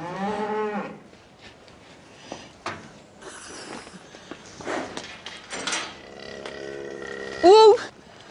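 A North Devon cow on a farm lets out a loud, drawn moo at the start and another short, rising call near the end, with scattered voices and rustling in between.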